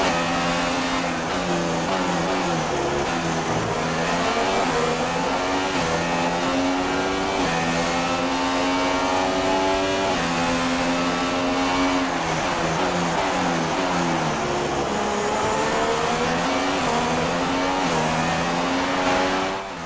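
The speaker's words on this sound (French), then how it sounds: "Je vous ai laissé vivre quelques instants avec le bruit de ce V6 hybride." Howling V6 hybrid engine of a McLaren Formula One car in the F1 2016 racing game, revving continuously and loudly throughout with rising and falling pitch through gear changes, no talking.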